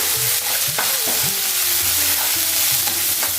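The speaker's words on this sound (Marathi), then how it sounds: "तर पुन्हा एकदा व्यवस्थित मिक्स करून घेऊया" Vegetables and soybean chunks for crispy soya chilli stir-fried in a pan, a continuous loud sizzle with scraping and clinking stirring strokes throughout, close up, no voices.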